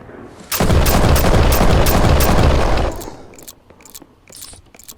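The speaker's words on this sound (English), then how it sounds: "I really like the gunshot sound" A shotgun blast in the horror video game Those Who Remain, one loud booming roar that sustains for about two seconds, then decays into faint scattered clicks and small noises.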